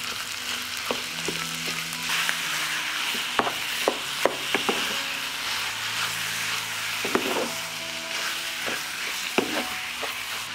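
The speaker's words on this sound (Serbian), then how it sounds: "dodat ću kilogram mlevenog mesa i njega ću propržiti" A kilogram of minced meat frying with onion, a steady close sizzle broken by repeated sharp spatula knocks and scrapes against the pan, no voices.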